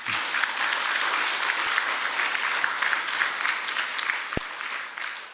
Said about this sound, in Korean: 두 분을 위해서 박수 한번 쳐주세요.